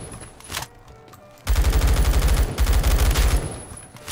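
Rapid bursts of automatic G36 rifle fire in the Roblox shooter Phantom Forces, two long loud strings of shots after a quieter opening with a few distant pops.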